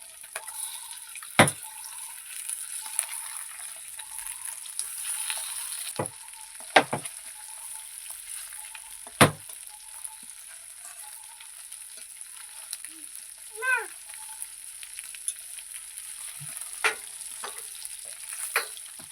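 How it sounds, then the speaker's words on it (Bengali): River fish fries in mustard oil after being turned in the pan, a low steady sizzle running throughout with a few sharp clinks and scrapes of a utensil against the pan. "এই দিকেও আমি লাল লাল করে ভেজে নেব।"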